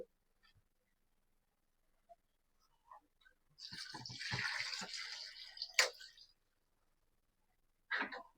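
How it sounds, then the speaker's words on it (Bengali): Water is poured into a cooking pot of chaam shaak stalks and spice powder in a village kitchen: a near, splashing gush of about two seconds that tails off, followed by a short later splash. "দিয়ে দিলাম পানি।"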